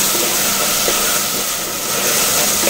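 Spices and turmeric sautéing in hot oil for a Kongu-style mutton curry, a steady, fairly loud broadband hiss and crackle running unbroken throughout with no talk.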